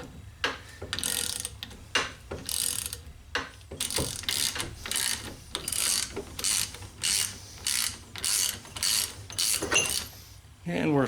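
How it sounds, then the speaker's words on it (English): A 24-inch breaker bar ratchet turns on a Honda Accord lower control arm compliance bushing, its pawl clicking loudly in quick repeated bursts separated by short pauses. "I think that's a 24-inch long breaker bar type ratchet."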